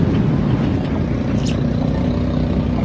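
Steady, loud engine drone of a steamboat running on the Pasig River, a continuous low rumble with no pauses throughout.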